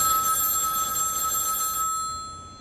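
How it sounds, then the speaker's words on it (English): A telephone in a kitchen rings with a bright, sustained electronic bell tone that holds loudly, then fades away toward the end, with no voices. "A phone in the kitchen will ring hot with special deals all week."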